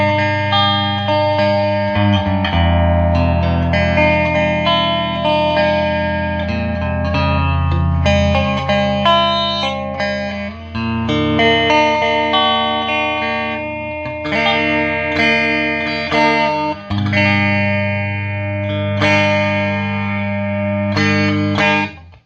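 An electric guitar played through a Fender Twin Reverb Silverface amp with the bright switch on and the normal volume at 10, ringing sustained chords and notes close and loud, alone without speech.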